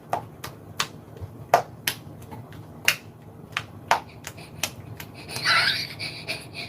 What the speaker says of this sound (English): I don't know what's clapping.